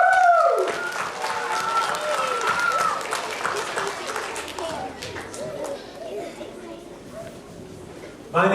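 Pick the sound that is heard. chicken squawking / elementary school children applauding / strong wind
elementary school children applauding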